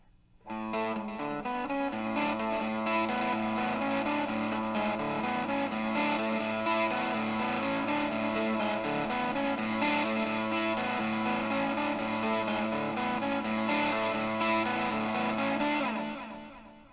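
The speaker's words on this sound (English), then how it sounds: "here's the main riff with distortion and delay" A distorted electric guitar plays the main riff of a song continuously, with rhythmic repeated notes and echoing delay, loud and sustained, then cuts off at the end.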